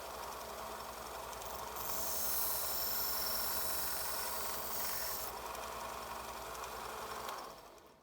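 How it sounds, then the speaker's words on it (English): A belt sander fitted with a fine sanding belt puts an edge on a bypass pruner blade: a faint abrasive hiss swells for a few seconds, then eases off. "I use my sander because I put a fine sand belt on it"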